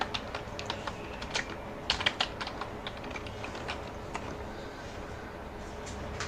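Rapid, uneven clicking of keys on a computer keyboard, close and steady with small bursts of faster strokes throughout.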